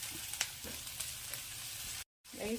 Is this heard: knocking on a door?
no